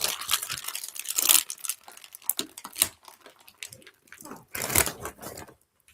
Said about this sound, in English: Now we gotta hear you chewing chips.